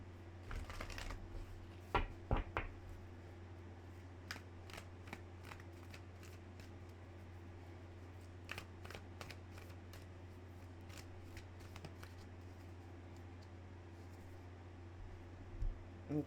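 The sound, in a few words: tarot cards being shuffled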